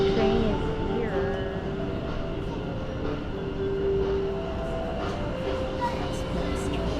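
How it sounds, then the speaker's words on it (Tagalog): Express train pulling into a station in Taiwan, a steady rumbling roar with tonal whines and squeals from the wheels and motors, plus faint platform murmur in the background. "Train is here."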